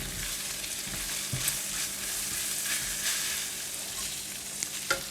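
Minced pork and carrot stir-fry in a hot pan, a steady bright sizzle with occasional scraping knocks of the spatula, close and continuous with no voices.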